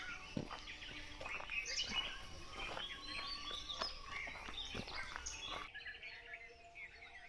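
Several birds chirp and call outdoors in Ratnagiri district, Konkan, in short bursts over a soft background hum, with a few sharper calls standing out; no talking.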